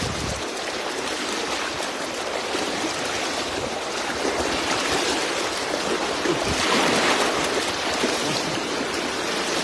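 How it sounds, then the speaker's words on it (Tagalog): Fast river water rushes in a steady, loud wash of broadband noise, swelling slightly toward the end, with no voices over it. "Sobrang agos ng tubig."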